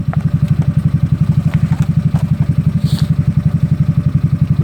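A GY6 scooter engine idles close behind the exhaust, a loud, rapid, regular putter of pulses with slight clattering, steady for the whole stretch and without speech.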